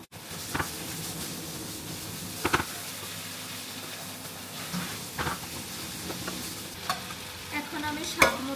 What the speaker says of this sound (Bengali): এই চালটা হচ্ছে এই মাংসর মধ্যে, এই ঝোলের মধ্যে দিয়ে সুন্দর করে ভেজে তারপরে হচ্ছে রান্না করব